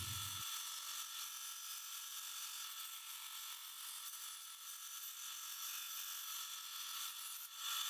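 Wood being cut for a DIY electric guitar headstock: a continuous, steady whirring cut, close and fairly loud, with no talking.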